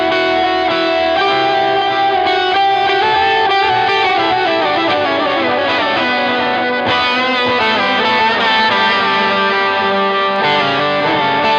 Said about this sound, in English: the delay, my boost pedal and my whammy set to an octave harmony up